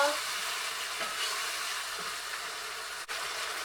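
Tomato frying in a pan makes a continuous close sizzle and hiss, steady and fairly loud, broken by a brief stir or clunk near the end.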